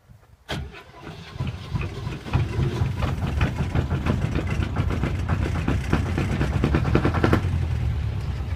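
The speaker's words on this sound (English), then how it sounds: "Clutch goes in, handle goes, full revs, choke out, and away we go." A click, then a boat outboard engine catches and runs, its revs rising into a steady mechanical drone with rattling.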